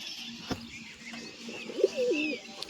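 Pigeons coo nearby in a quiet space, a soft rolling coo swelling near the end after a sharp tap earlier, with a faint steady background hum.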